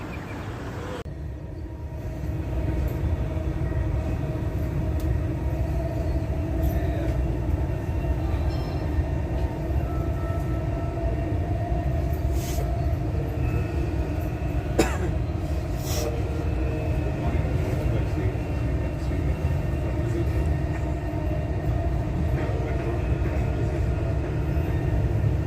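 A Dubai Metro train in motion heard from inside the carriage, giving a steady, continuous rumble and hum of wheels on track with faint rattles, all of it sustained with no talk.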